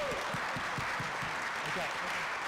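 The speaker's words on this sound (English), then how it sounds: "Let's give them a big round of applause." A city council meeting audience applauds steadily, a dense, even clatter of many hands filling the room at moderate volume throughout, with a voice talking underneath.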